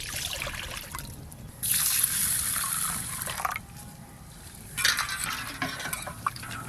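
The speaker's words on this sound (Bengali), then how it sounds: "জল দিয়ে 2বার করে ডাল ধোয়া হয়ে গেছে।" Water sloshes and trickles in a pot as lentils (dal) are rinsed by hand, in several short splashy bursts with quiet gaps between them. The sound is close and moderately soft.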